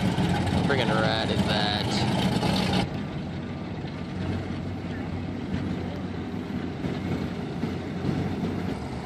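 A powerful high-horsepower motorboat engine roars past out of Cullens Bay in a broad, steady rumble, loud at first and then settling into a continuous drone, with people talking over it.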